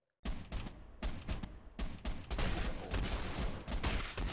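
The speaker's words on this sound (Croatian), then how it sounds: "Ja njega pucam, on hitove ne prima." Gunfire in the mobile battle royale game Rules of Survival, a dense burst of rapid shots rattling continuously for several seconds, loud and close with no talking.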